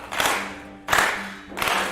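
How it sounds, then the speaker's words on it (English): An audience claps hands together in a fast, steady rhythm during a group warm-up session, the clapping coming in loud bursts separated by brief lulls, with no talking. "So I want everyone to start clapping"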